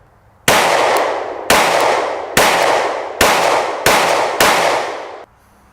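Six loud, close pistol shots are fired from a handgun fitted with a red dot sight at a shooting range, evenly spaced about a second apart, each with a sharp crack and a short decaying echo.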